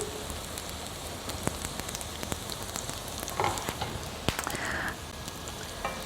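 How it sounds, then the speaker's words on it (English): Food frying in a pan while cooking with kitchen scraps, a faint steady crackling sizzle with scattered pops and small clicks throughout. "So these are sizzling"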